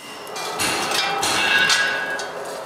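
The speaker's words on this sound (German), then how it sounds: "lege eine Stahlscheibe rein und schlage mit dem dicken Hammer ein paar Mal drauf" A heavy hammer strikes a steel disc laid on the glowing base of a hand-forged iron pan, with several loud, close blows over a steady background roar.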